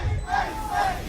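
An esports arena crowd roars during a tense Valorant match at the VCT Champions Tour Americas Kickoff, a brief dense surge of cheering voices close and loud with no commentary over it.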